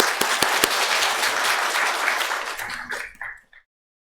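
A church congregation claps steadily for about three seconds in welcome before a sermon, then the applause thins and fades out, ending in silence.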